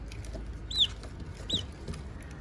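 A baby chick cheeps twice, short high bright peeps close by over a low background rumble, with no one speaking.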